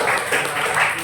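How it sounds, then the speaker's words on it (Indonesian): Dense audience applause at an academic lecture, steady and close, with the clapping pulsing slightly in waves through a short burst and no talking over it. "Terima kasih, tepuk tangan."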